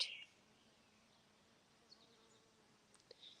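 A bumblebee feeds on borage flowers in a garden, giving a faint, steady buzz against quiet outdoor background, with a few soft louder moments and no speech.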